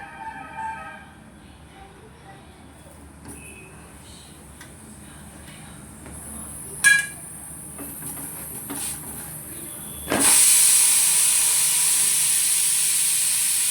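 A pressure cooker cooking rice lets out a loud sudden hiss that starts late and holds steady to the end, after a quieter stretch of faint household noise and a brief knock.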